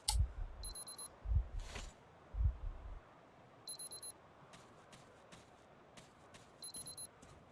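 Electronic beeping in the Metro Exodus video game, short high beep bursts repeating every few seconds over low rumbling game ambience and occasional thuds.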